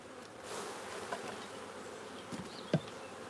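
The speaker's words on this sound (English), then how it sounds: "This is absolutely packed full of bees." Honeybees hum in a packed nucleus hive. The buzzing is soft and steady and close by, with a few brief clicks and taps.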